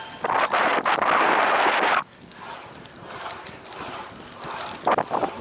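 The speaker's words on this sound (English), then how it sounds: "Here come more horses over here." Horses walk along a country road near a border, their hooves clopping in steady, moderately close steps. A burst of wind buffets the microphone during the first two seconds.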